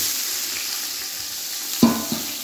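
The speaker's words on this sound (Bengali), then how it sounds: "এখন পেঁয়াজটা দিব পেঁয়াজটা দিয়ে দিচ্ছি" Chopped onions go into hot oil in a cooking pot for a Bengali home recipe. A steady, close sizzle is broken by a sharp splash and crackle as the onions drop in, followed by a softer second hit.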